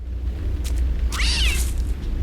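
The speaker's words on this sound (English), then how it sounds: "There's a cat." A cat in the horror video game Siren 2 gives a single drawn-out, plaintive meow that rises and falls over a steady low droning background, loud and close, with no talking.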